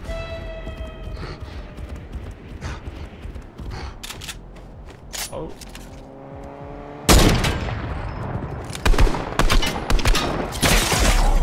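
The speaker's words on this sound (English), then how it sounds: "Oh, I see gunfire." Fortnite match gunfire: scattered single shots early, then a loud burst of rapid fire from about seven seconds on, with repeated cracks and bursts continuing to the end.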